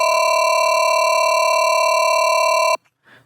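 A synthesized dubstep YOI built from a sine wave holds as one steady, loud, ring-modulated tone with a bright stack of overtones for nearly three seconds, then cuts off abruptly, leaving a brief faint rustle.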